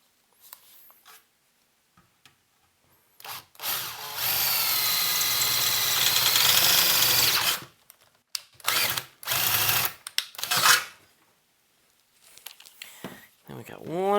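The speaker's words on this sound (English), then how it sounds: "Okay, got our pilot hole drilled. And we drill next size hole." A power drill whines loudly and steadily for about four seconds as it bores a hole in a metal tube amplifier chassis, followed by several brief drill bursts and a voice speaking.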